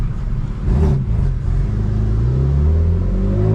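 A BMW M3 with a manual gearbox rumbles through a gear change, the engine note dipping briefly then rising into a steady low drone as it pulls again, heard from inside the car.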